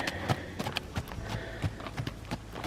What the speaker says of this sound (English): Oh, he's going to canter.